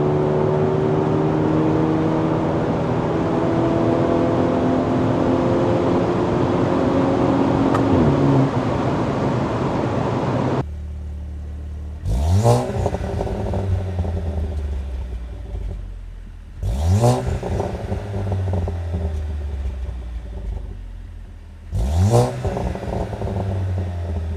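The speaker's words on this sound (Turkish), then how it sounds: "ara hızlanma alalım 150'den." A modified 315 HP Audi A5 45 TFSI Quattro with a downpipe accelerates hard from 150 km/h. A loud steady engine drone climbs in pitch, then three quick upshifts follow, each with a sharp break and a fresh rising roar.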